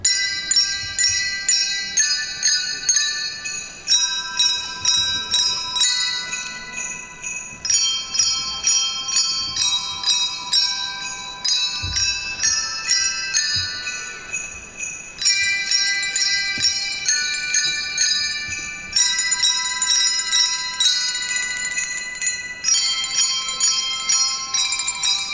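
A handbell ensemble plays Christmas melodies at a concert, with bright, ringing bell tones struck in steady rhythmic phrases and lingering overlapping resonance throughout, loud and close with no talking.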